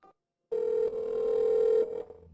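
A telephone gives a single steady electronic tone lasting about a second and a half, clear and close after a short silence, as a number is called.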